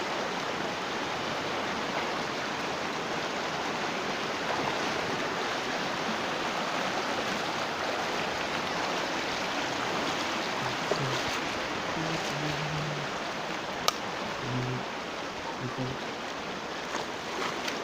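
River water flows in a steady, broadband rush that stays even throughout, with a few faint voices and brief sounds near the end.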